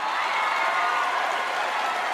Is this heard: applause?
yes